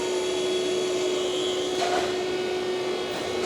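The electric motor of a Mitsubishi RB32 CNC angular cylindrical grinder runs at a steady hum with a constant tonal whine and airy broadband noise, continuous and even throughout, with no talk.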